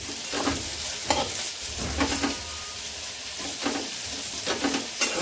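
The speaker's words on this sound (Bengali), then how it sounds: "এবার আমি এই এই তেলে এই উচ্ছেটা ভেজে নেব" Bitter gourd slices frying in oil in a home kitchen pan, a steady close sizzle and hiss with repeated scraping stirs of a spatula throughout, no talking.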